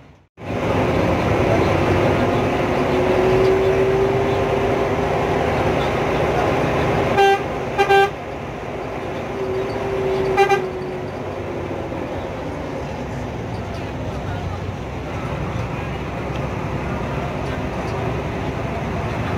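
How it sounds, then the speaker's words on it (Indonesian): An airport train runs past a railway level crossing with a sustained loud rumble throughout, marked by two short horn toots partway through, close and steady, with no talk. "Palang kereta bandara."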